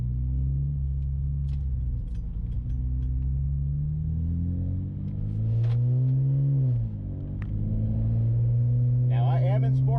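A car drives along steadily, its engine a low, continuous hum from inside the cabin that rises briefly under acceleration, with a few faint clicks and rattles.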